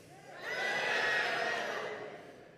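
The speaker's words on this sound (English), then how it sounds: "I'm going to say the name and you make lots of noise" A Purim congregation bursts into noisy shouting and jeering at the name Haman, a swelling crowd roar that rises quickly, holds for about a second and a half, then fades.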